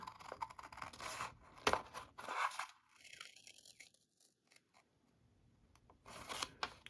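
Scissors cut paper along a drawn line for a school flat-shapes craft, with several close, crisp snips and slicing scrapes arriving irregularly and quiet gaps between the cuts.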